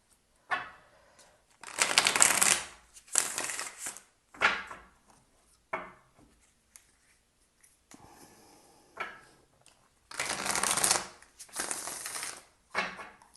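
Tarot cards being shuffled by hand in several separate bursts of riffling and shuffling, close and fairly soft, with quiet gaps between them and no talk.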